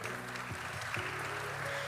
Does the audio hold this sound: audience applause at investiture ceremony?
yes